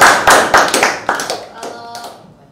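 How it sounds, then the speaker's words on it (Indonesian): Applause from an audience at an informal church talk event, a burst of many hands clapping that peaks early and gradually thins and fades over a couple of seconds. "Tepuk tangan dulu."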